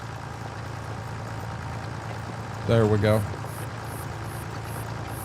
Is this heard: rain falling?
no